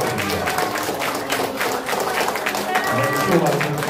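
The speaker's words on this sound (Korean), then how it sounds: "큰 박수 부탁드립니다." An audience applauds at a commemorative seminar during a flower bouquet presentation, a steady, moderately loud patter of clapping that blends with voices talking over it.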